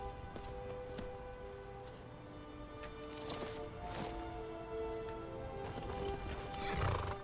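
Horse from Skyrim whinnying over a steady game soundscape, with clip-clop hooves and scattered knocks; the neighs rise in bursts around the middle and a louder thump near the end.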